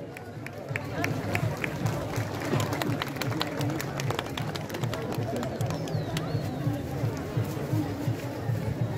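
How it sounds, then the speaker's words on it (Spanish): An audience at a closing cultural event with Huaylarsh dancing claps in dense, steady applause over a crowd murmur, and a voice speaks over it. "Hay los aplausos del público,"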